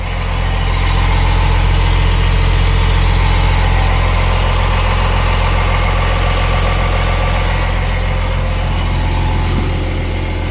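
A 1986 Ford F350 diesel idles up close through a 4-inch turbo exhaust and a straight-through muffler, a loud, steady low rumble with a faint vibration that holds evenly throughout, with no voices.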